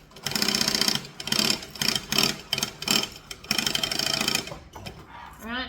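A sewing machine stitches a seam with backstitching, running in short and longer whirring bursts separated by brief pauses, close and clear with no talking.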